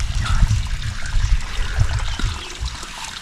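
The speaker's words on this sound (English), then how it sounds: "I remove the water." Water trickles and pours off chopped organic chicken as it is drained during cooking, an uneven, close splashing dribble that fades slightly toward the end, with no talking.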